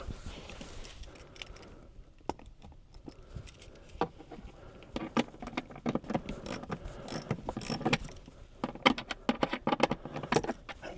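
A Torx screw is driven back in to hold a vent in place inside a Porsche Cayenne. It comes through as a string of small metallic clicks, ratcheting taps and key-like jingles, close up and uneven, with quiet pauses between bursts and no talking.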